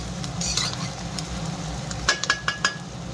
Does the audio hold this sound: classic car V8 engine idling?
no